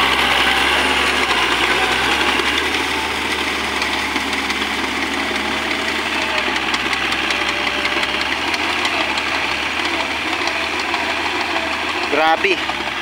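A Kubota tractor engine runs steadily throughout, a loud continuous diesel chug with a low knocking rumble, close by, on a farm.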